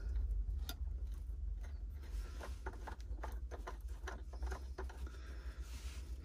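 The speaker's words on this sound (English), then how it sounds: "put the nut back on, give it a bit of a tighten up" Nut being tightened by hand onto a fishing baitboat, giving a run of small ratcheting clicks and mechanical creaks against a steady low hum, close and moderately quiet.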